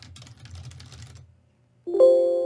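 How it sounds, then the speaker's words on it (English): Quick light keystrokes on a computer keyboard typing into a fillable form, a soft rapid patter that stops, followed by a short bright electronic chime signalling no more characters can be entered. "I'm actually going to test it by typing"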